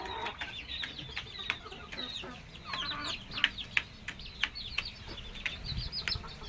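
A tame Chinese silkie hen gives soft, scattered clucks over a continuous background of high chirping from other birds, fairly quiet and close.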